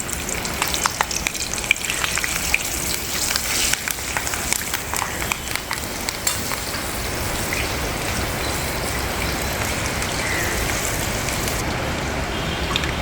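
Light drizzle pattering on an open terrace during the monsoon, a dense, steady hiss of fine drops that stays even and continuous throughout.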